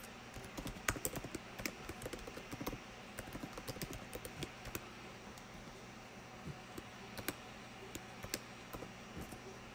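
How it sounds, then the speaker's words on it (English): Keys on a computer keyboard tapped in quick irregular bursts while code for a JavaScript snake game is entered, faint and close, with a low steady hum underneath and no talking. "So let me just type this in."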